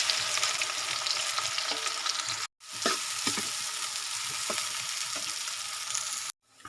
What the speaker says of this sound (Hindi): अब इसमें हम प्याज डालेंगे और प्याज को ब्राउन करेंगे।